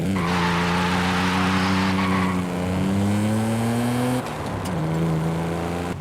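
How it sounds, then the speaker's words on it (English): A 1971 Nissan Skyline 2000 GTR engine revs hard and loud, its tone rising and falling in sweeping pitch changes. A short break comes near the end before it climbs again. "Ultimate engine sounds of the Nissan GTR Generation"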